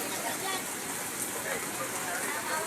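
Heavy typhoon rain pouring steadily, a dense unbroken hiss of falling water, close and constant throughout.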